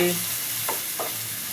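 Tomatoes fry in a pan for peanut chutney, a soft continuous sizzle broken by two quick stirring scrapes, brief and close.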